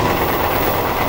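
Jind Kurukshetra Express train passing at Kurukshetra Junction: a loud, close, continuous roar of rolling rail cars with wheel rumble, brief and without voices.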